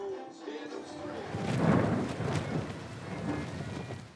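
Rain falling with rumbles of thunder outdoors on a Scottish Highland estate, a steady wash with a swelling rumble midway, some voices faintly under it.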